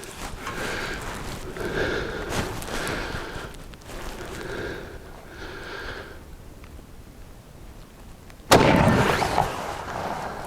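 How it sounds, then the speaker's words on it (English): A 30-06 bolt-action scoped rifle fires at a pumpkin: a quiet, murmuring background is broken near the end by one sudden, loud, sharp shot with a brief ringing tail. "This is a 30-06 with scope and bolt action."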